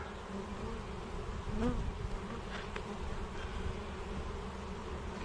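Honeybees buzz steadily in a dense, continuous drone close by, with no voices.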